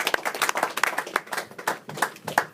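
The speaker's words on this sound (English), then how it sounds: "please give our charter member a round of applause" A small group at a Toastmasters meeting gives a brief round of applause, with individual hand claps distinct and close in an irregular, sparse patter lasting a couple of seconds.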